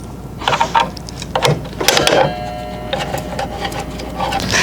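Tool work on the front screw of a DWS779 miter saw guard plate: several short clicking, scraping bursts of metal handling, close and moderately loud, with a steady faint whine running beneath.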